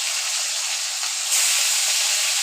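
Fish sizzles in hot oil in a frying pan with a close, constant hiss that swells louder partway through, with no voices.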